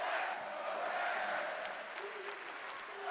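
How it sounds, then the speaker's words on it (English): Crowd noise fills a basketball arena during a Summit League tournament semifinal between South Dakota State and North Dakota State, a continuous distant roar of cheering and clapping that stays fairly even throughout. "You can hear the crowd behind me."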